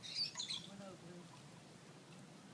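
Gulls call in high, sharp cries near the start while bread is held up for them outdoors, the calls thinning out afterwards as muffled talk and background noise carry on.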